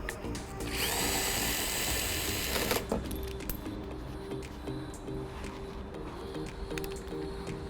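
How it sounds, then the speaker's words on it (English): A power drill whirs loudly and steadily for about two seconds as it backs out 7mm screws from beneath the composite ZR1-style front splitter of a C7 Corvette, then quieter shop noise follows. "And now we're going to remove the 7mm screws underneath."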